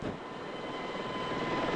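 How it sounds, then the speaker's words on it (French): Helicopter in the Vietnam Med Evac video game passing a fixed in-flight camera, a steady broadband rotor and engine roar at constant loudness throughout, with no talking. "Caméra en vol qui voit passer l'hélicoptère"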